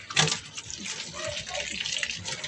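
Water running from a household tap, a steady broadband hiss of flowing water with small splashing variations, close and fairly loud throughout, with a voice talking over it.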